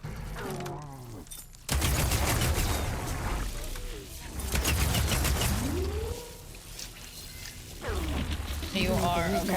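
Gunfire in a chicken-themed flying video game, loud bursts of shots and booms in several blocks, with chirpy whistling game effects between them and no speech.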